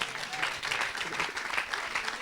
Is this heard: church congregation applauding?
yes